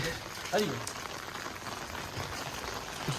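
Rain falls at Chittorgarh Fort in a soft, constant patter and hiss, fairly faint, with a few slightly louder splashes.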